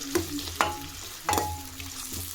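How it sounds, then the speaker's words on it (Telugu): Onions and green chillies frying in a pan for chicken gravy, with a few sharp scrapes of stirring over a steady low sizzle, close and moderately loud. "పచ్చిమిరపకాయలు యాడ్ చేసుకుని ఒక నిమిషం ఫ్రై చేసుకుంటాము."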